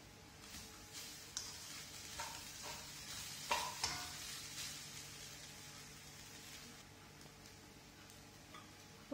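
Coconut rice being stirred and mixed in a pan, with soft steady scraping and a faint sizzle, plus a few sharper clicks of the spoon against the metal near the middle; no talking.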